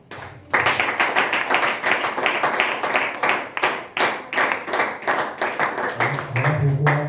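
A church congregation applauds a brother, with steady clapping from the crowd carrying on throughout and a voice talking underneath toward the end.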